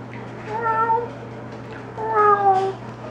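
A house cat meows twice, close and clear, the two calls separated by a short pause over a low steady hum.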